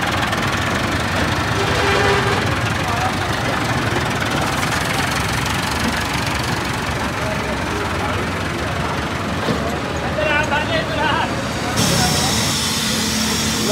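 A tractor engine idles loudly and steadily nearby at a market, a continuous mid-pitched rumble filling the whole stretch with a brief shift near the end.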